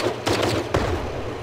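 Triple cannons on a vehicle in the game Brick Rigs fire in a quick burst of several sharp, loud shots, with no talking.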